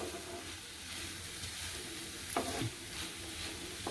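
Onion and tomato fry in a pan for misal, with a continuous soft sizzle and a couple of brief stirring scrapes close by, with no talking.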